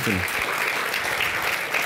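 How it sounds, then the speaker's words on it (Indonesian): Studio audience applause on an Indonesian talk show, a brief burst of steady group clapping, with a voice briefly audible at the start. "kita berikan tepuk tangan dulu untuk Bung Edi Mulyadi"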